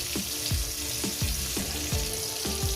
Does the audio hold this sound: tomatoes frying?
yes